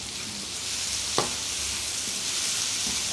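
Tomatoes and ground meat sautéing in a pan give off a steady, broad sizzle that holds throughout, with one sharp utensil tap partway through and no voices.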